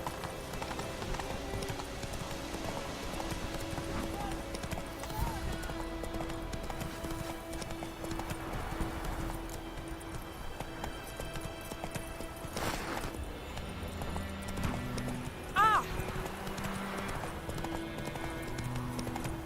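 A horse gallops in The Witcher 3 with rapid clip-clop hoofbeats, a brief whinny near the end, and game music underneath.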